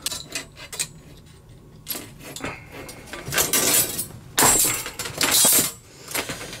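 A Whitworth punch knocks screw holes through thin 2pt steel rule, giving sharp metallic clinks and clattering impacts in irregular bursts, with louder ringing strikes toward the end, close by in a quiet room with no talk.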